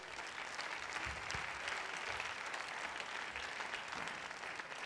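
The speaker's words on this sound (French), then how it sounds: "Vous les applaudissez tous les trois." Steady audience applause for three guests at a chamber of trades and crafts event, a continuous dense patter of many hands at moderate distance with no speech over it.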